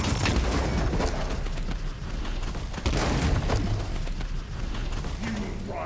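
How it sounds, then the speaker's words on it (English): Booming explosions and rumbling secondary blasts in the turn-based strategy game Warhammer 40,000: Chaos Gate - Daemonhunters, loud repeated hits over a dense mechanical battle bed, with some speech mixed in. "lots of secondary explosions"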